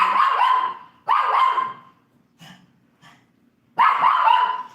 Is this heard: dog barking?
yes